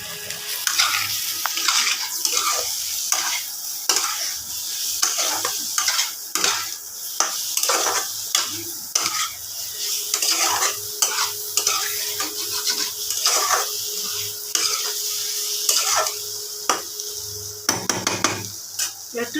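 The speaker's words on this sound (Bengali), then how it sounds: "সেদ্ধ করা আলুগুলো দিয়ে দেবো।" Boiled potatoes are stirred in a pan of spices while cooking for a soybean kofta curry. Repeated scraping spoon strokes come in an uneven rhythm over a low sizzle.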